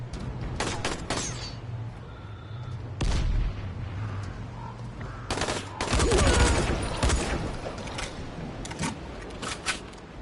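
In the video game Dying Light, a grenade blast and bursts of gunfire crackle through combat, with a loud boom around the middle. Several sharp shots stand out over a rumbling background.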